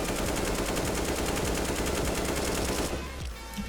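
AK rifle fire in a video game comes as a sustained rapid automatic burst of loud, evenly spaced shots for about three seconds, then stops abruptly into quieter game ambience.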